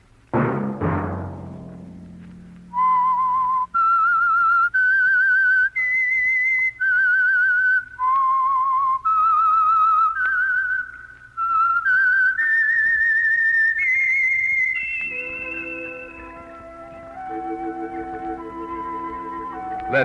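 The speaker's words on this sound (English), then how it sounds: "Let that whistle be your signal" A clear whistled melody of distinct sustained notes, steady and close, followed by a softer lingering tone with accompanying instruments at the end.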